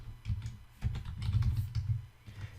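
Rapid typing on a computer keyboard entering a device name, a steady run of close, soft key clicks with brief pauses between bursts.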